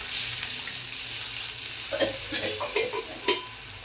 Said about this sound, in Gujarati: હવે આપણે અંદર છાશ નાખી દઈશું